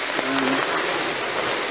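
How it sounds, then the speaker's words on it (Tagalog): Rain falls steadily in Batangas, a dense, even hiss close by that lasts throughout with no pauses; a faint voice is heard briefly under the rain near the start. "medyo humina na yung ulan."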